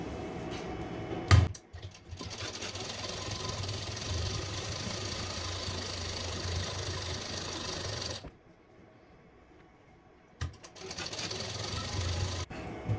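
A sewing machine hums steadily as it stitches the folded edge of a princess-cut blouse, running continuously in two long stretches with a short pause between them.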